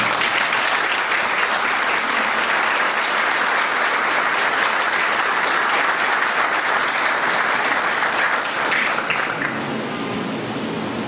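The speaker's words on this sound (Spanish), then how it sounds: "no quiere decir que no le podamos brindar nuevamente un fuerte aplauso" A conference audience at an event on the challenges facing 21st-century lawyers gives a speaker sustained, dense applause, loud and even throughout before easing slightly at the very end.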